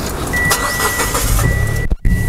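A right-hand-drive car with push-button start-stop fires up: a steady mechanical hum with a brief sharp dip near the end, close and fairly loud, with no voices.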